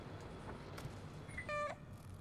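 A single short meow from the cat in the video game Stray, clear and close over a quiet low ambient background.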